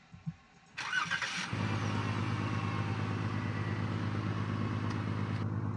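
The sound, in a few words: small vehicle spawned in a roleplay video game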